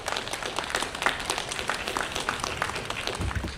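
A convention panel audience at an anime con applauds, a dense, steady clapping from many hands that fills the room at moderate volume throughout.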